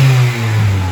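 A turbocharged Honda Civic D16Y7 engine on a stock ECU with no tune, running loud and close at a steady low hum that rises slightly, a brief rev-like surge.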